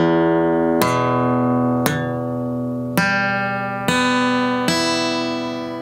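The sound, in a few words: guitar chord arpeggiated from sixth string, one muted note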